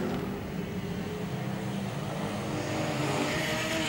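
Enduro race cars at Archerfield Speedway, including an Amcar, roar together in a dense, continuous wash of engine noise with no clear gaps.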